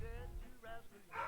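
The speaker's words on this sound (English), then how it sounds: "Let me know if you guys hear the dogs barking, by the way." Dogs bark at a distance in short, faint yaps over a low background hum, a few separate calls spread across the moment with no talk.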